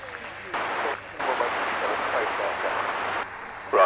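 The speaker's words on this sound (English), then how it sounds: "you can hear the crowd clapping in the background" Crowd clapping at an outdoor air event, a steady broadband patter of distant applause swelling and dipping under radio chatter and background noise.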